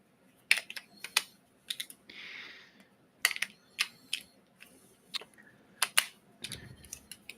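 A handheld fidget toy gives sharp, sparse clicks in small irregular clusters, close and quiet, with a short hiss partway through and no one speaking.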